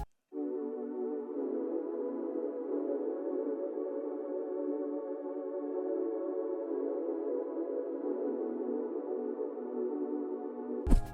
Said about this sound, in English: added this pad called Angelic Analog from Alchemy, which is Logic stock plugin